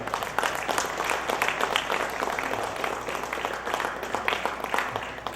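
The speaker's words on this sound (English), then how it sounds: "Let me get everybody to give a round of applause" Audience applause for a performer at a live-streamed event, a dense patter of clapping hands that holds steady throughout at moderate loudness with no clear talking over it.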